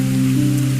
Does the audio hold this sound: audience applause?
no